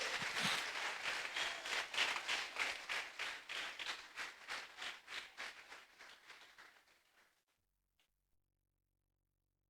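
Church congregation claps in a strong, rhythmic unison beat that gradually fades and stops, followed by near silence with a couple of faint thumps.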